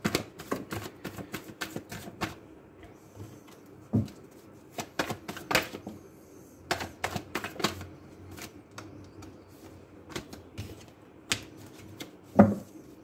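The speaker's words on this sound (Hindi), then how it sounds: "रीडिंग को स्टार्ट करते हैं एंड कार्ड्स को शफल करना शुरू करते हैं।" A deck of tarot cards being shuffled by hand: scattered sharp slaps and flicks in irregular clusters with quiet gaps between them, close and clear.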